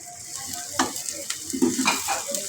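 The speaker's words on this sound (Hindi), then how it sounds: "अब मैं इसमें हरी मिर्ची ऐड कर दूंगी।" Green chilies go into onions frying lightly in a pan, a soft steady sizzle broken by a few sharp spatula scrapes and stirring clinks.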